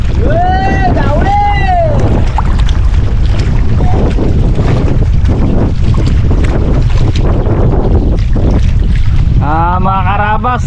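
Strong wind roars steadily over open water with waves slapping a small fishing boat; voices shout and call out briefly at the start and near the end.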